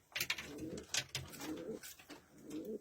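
Pigeons coo in a coop crowded with birds, a near, steady chorus of soft rolling calls that overlap and pulse in repeated phrases, with no talk over them.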